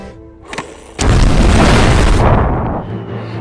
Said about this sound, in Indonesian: ketika penambang Jerman sudah pada 4 kaki di depan mereka, Australia segera meledakkan terowongan itu